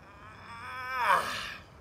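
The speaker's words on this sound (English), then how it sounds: "And then we're gonna do a little bit of yawning." During a short guided meditation, a single drawn-out yawn rises and falls in pitch, soft and close, with nothing else around it.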